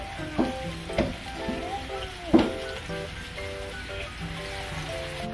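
Milkfish (bangus) frying in a pan outdoors, a steady close sizzle with a few sharper pops and crackles, while a faint tonal background hum runs underneath.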